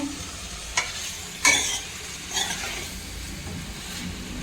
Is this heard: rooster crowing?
no